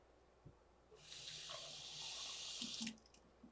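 Cold water runs from a kitchen tap while batter for fish and chips is being adjusted, a steady hissing stream starting after a soft knock and lasting about two seconds before cutting off, followed by a few faint clinks.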